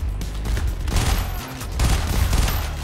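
Shotgun fire in the heist shooter Payday The Heist, a dense run of booming shots with brief lulls between volleys, loud and close, with no talking over it.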